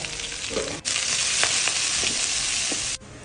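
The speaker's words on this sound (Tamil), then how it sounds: "வெண்டைக்காய் நல்லா எண்ணெயிலேயே நல்லா இப்படி வதங்கிடணுங்க" Loud, steady sizzling of okra frying in hot oil, with a few brief stirring scrapes and a short break partway through.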